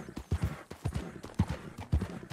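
Horse hooves clip-clopping at a steady walking rhythm in the Red Dead Redemption 2 video game, a run of close, hollow paired beats with no talking over them.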